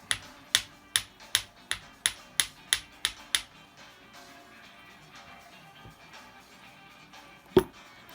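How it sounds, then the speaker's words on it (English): A hammer flattens a handmade earring wire in about ten sharp, evenly spaced strikes, then stops, with a single louder knock near the end and quiet background music underneath. "And hammer the second one out."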